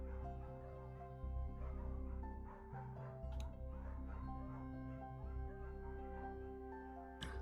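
A dog in the video game Firewatch barks and yips in short bursts over a steady low humming drone of game ambience, the barks fairly soft and intermittent.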